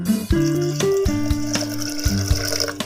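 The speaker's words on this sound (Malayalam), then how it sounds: "ഇതിലേക്ക് കുറച്ച് വെള്ളം ചേർത്ത് കൊടുക്കാം." Water is poured onto washed horse gram in a vessel, a short close pour with a gurgling, ringing tone, no voices.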